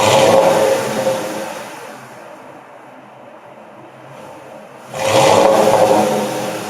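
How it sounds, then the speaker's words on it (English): A 2010 Ford F150 XL running on its factory exhaust, loud revving at the start and again near the end, with a quieter idle between the revs. "this is the factory exhaust before we remove it."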